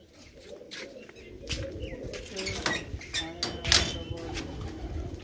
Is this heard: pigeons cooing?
yes